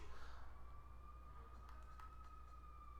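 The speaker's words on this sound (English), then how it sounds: "I don't know if you can hear the siren in the background" A faint, steady siren tone drifts in from far off beneath a low background rumble.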